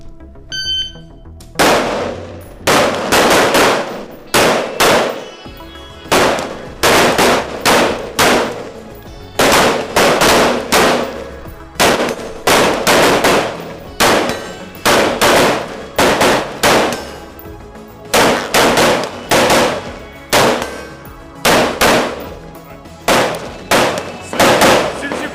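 Loud rifle gunfire during Green Beret day and night marksmanship drills, sharp shots fired in a steady repeated rhythm roughly once a second, each followed by a short echoing decay, with no pauses across the whole stretch.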